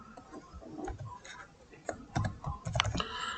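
Someone types on a computer keyboard while writing code, producing a quiet, uneven patter of key clicks with a few louder taps near the end and no talking.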